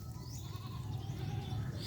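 A goat bleats in drawn-out, wavering calls against a steady low outdoor rumble, fairly faint and brief.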